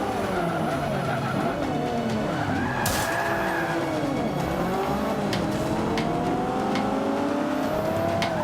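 Racing car engine in the Xbox One video game Forza 5, revving through gear changes with rising and falling pitch and tire skids, loud and continuous throughout.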